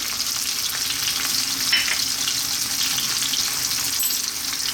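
Green olives frying over high heat in olive oil with onion, a dense steady sizzle running throughout with faint clinks of stirring.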